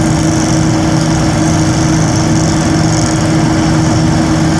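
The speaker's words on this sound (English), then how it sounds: "he's actually got that hooked up to the air line, and you can hear it. You might be able to hear it going brrrr." An air-powered tool hooked to an air line runs while a crew sets a new power pole during hurricane power restoration, giving a loud, steady, unbroken mechanical drone throughout.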